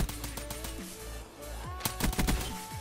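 Pistol shots in a pistol-only video game round, a few sharp cracks near the end over a busy mix of game music and effects, with a voice talking briefly.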